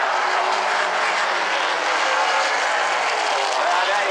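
A super late model race car, J.J. Hamilton's #11, roaring past at South Sound Speedway during a 100-lap A-Main, its engine a loud sustained broadband drone with a rough, uneven tone.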